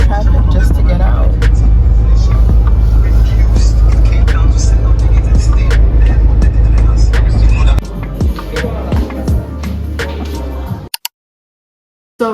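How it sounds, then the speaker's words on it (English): Heavy road traffic in Ghana, with continuous engine drone from cars and buses and a few passing vehicles, under nearby speech, before the noise cuts out near the end. "So much traffic just to get out."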